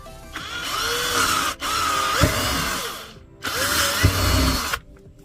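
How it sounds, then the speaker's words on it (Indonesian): A power drill bores into a plastic bottle cap in two long whining bursts with a brief pause between them, the motor pitch rising and dipping as the bit bites, close and loud. "Kemudian kita lubangi, bisa menggunakan bor atau menggunakan paku yang dipanaskan"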